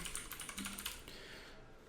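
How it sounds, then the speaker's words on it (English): Quick, irregular clicking of a computer keyboard as a location is typed into an ad-targeting form, close and fairly quiet, the keystrokes bunched in the first second and then thinning out. "We're going to type in Melbourne"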